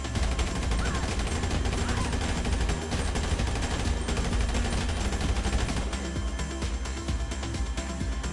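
Rapid bursts of automatic gunfire in GTA 5 Online as NPCs are shot, loud and sustained across the whole stretch with some talk underneath.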